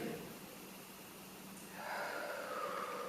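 A deep inhaling breath during a beginner-to-intermediate HIIT workout, a steady airy rush that swells louder in the second half of the clip, with no talking.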